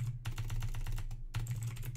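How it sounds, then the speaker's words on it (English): Rapid keystrokes on a computer keyboard clatter in dense bursts with a brief pause midway, close and clear above a steady low electrical hum, with no talking. "keyboard is spazzing out there"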